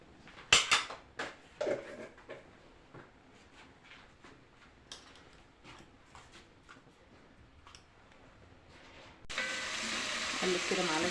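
Garlic drops into hot oil in a sauce pot after a few spoon clinks against the metal, then a steady, fairly quiet sizzle takes over in the last seconds.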